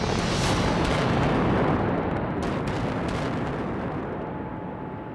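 A blast at an iron ore mine rolls out as a long, heavy rumble that fills the whole stretch and fades slowly, loud and distant, with no voices.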